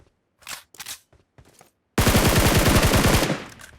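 Rapid automatic gunfire from a first-person shooter video game rattles out as one loud, sustained burst of about a second and a half, preceded by a few short muffled thuds or steps.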